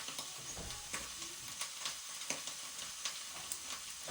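Continuous sizzling and frying as onions go into a pot of Kenyan-style tripe stew (matumbo), with light stirring clicks and scrapes over a steady hiss, close and alone.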